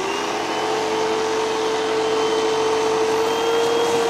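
A Hoover vacuum cleaner running, a loud steady whine and airflow roar that holds constant from start to finish with no pauses.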